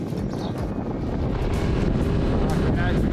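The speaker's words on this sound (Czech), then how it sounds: "Poměrně větrno." Strong wind buffets the microphone while riding a motorbike in Morocco toward the Atlantic coast, a loud continuous roaring rush with gusty surges throughout the short stretch.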